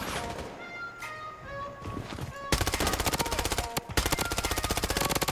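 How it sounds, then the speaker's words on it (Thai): Rapid automatic gunfire in the BloodStrike shooter game, loud, dense bursts of shots that take over about halfway through after quieter game sounds, with no talk over it. "มีตรงนู้นเหมือนมีคนยิงอยู่นะ"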